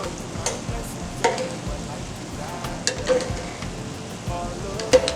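Puff-puff dough balls fry in hot oil with a steady bubbling sizzle, broken by light scraping stirs and small clicks from the pan, close and moderately loud.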